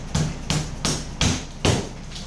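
Toothpicks are hammered flush into a foam kayak, five sharp, loud hammer strikes landing at a steady, unhurried pace with brief ringing between blows and no talking.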